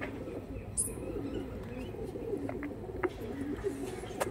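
Kaldama pigeons coo softly in a loft, low rolling calls repeating under a faint background hum, with a brief higher chirp early on.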